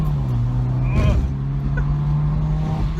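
A 2011 Honda CR-Z compact hatchback in sport mode accelerates hard, its engine note holding steady and loud from inside the cabin with a brief rising surge near the middle, while a voice speaks faintly beneath.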